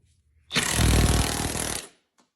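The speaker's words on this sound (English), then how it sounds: "we got our DeWalt set to the 3 setting, which is the highest torque setting" A DeWalt drill on its highest torque setting tightens a nut held in a vise, giving one loud, harsh buzzing burst of about a second and a half that stops abruptly, close and alone.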